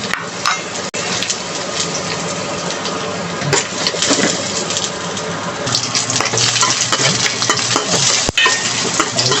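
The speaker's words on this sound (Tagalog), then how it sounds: "Yan, gisa-gisa mo na." Food sautéing in a pan, a loud, dense, continuous sizzle up close with scattered clinks of a utensil against the pan throughout.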